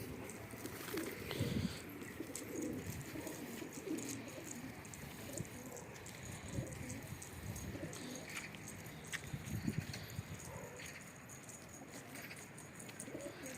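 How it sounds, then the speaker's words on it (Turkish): Mardin pigeons coo softly after landing from a flight, low rolling calls repeating irregularly over a faint background hiss, heard at a distance with no one talking. "Kuşlarımız her zaman uçtuktan sonra direkt hepsi yay yapıyor."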